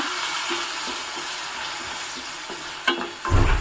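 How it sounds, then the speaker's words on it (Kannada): Green peas and capsicum frying and being stirred in a pan for a traditional Brahmin-style rice dish, a steady close sizzle with soft scraping strokes and a louder burst of sizzling near the end. "ಸ್ವಲ್ಪ ಫ್ರೈ ಆಗಿದೆ ಈಗ ನಾನು ಗ್ರೀನ್ ಪೀಸ್ನ ಹಾಕಿದ್ದೀನಿ ಹಸಿರು ಬಟಾಣಿಯನ್ನು"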